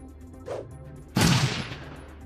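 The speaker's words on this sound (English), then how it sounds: "Burst fire on the front guy here." Burst-fire gunshots in the tactical RPG Shadowrun Dragonfall come as one sharp, loud volley that cuts in abruptly and decays over a fraction of a second, after a faint soft sound earlier.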